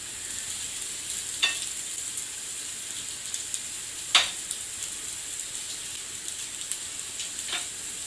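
Thin slices of donair meat sizzle on a hot griddle, a steady close-up hiss of frying broken by a few sharp crackles and pops, with no talking.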